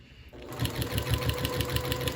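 After a brief quiet start, a sewing machine close by starts up and stitches a scrappy patchwork mug rug, its needle thumping in a fast, even rhythm.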